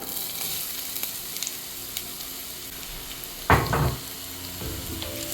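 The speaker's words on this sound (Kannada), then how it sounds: "ಫಸ್ಟ್ಗ್ ಎಣ್ಣೆ ಇತ್ತ ಬೆಚ್ಚಾತಂಡು ಇತ್ತ ನಮ್ಮ ಕಟ್ ಮಂತಿನ ನೀರುಳ್ಳಿ ಪಾಡೋದು" Chopped onions dropping into hot oil in a home kitchen, a sudden burst of loud sizzling and crackling that flares up briefly then settles into a steady softer fry, with no talking.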